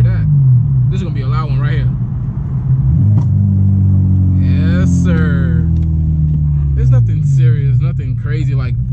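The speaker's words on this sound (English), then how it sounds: "But for a Civic to be popping that loud, I find that pretty damn dope." A 9th-generation Honda Civic Si with an FBO setup rumbles loudly at idle and under revs, its exhaust letting out pops and crackles, while people talk over it.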